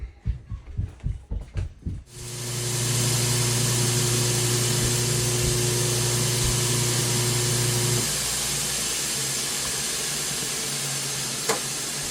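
A power sander works on stabilized wood handle pieces, a loud steady whir with a tonal hum that shifts pitch partway through, preceded by a few short knocks.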